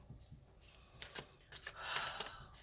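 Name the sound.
shuffling tarot cards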